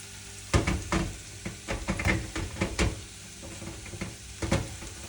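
Butter sizzles quietly in a frying pan while it is spread for a French omelette, with a string of scraping and tapping strokes over the low hiss.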